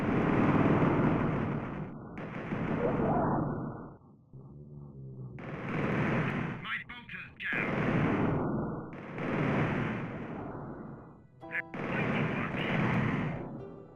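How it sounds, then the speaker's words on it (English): Loud, dense bursts of gunfire mixed with roars and screams of Genestealers being blasted apart in the Warhammer 40k video game Vengeance of the Blood Angels, coming in repeated heavy waves with brief quieter gaps between them. "Your ears will constantly be filled with gunfire, comms chatter, and the roar and screams of Genestealers being blasted to pieces."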